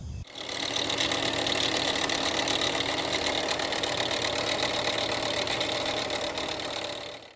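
A 2019 Toyota Camry SE engine with about 300,000 miles runs steadily before its alternator fails, a continuous close mechanical hum and whine with a fast ticking texture that starts abruptly and holds even throughout.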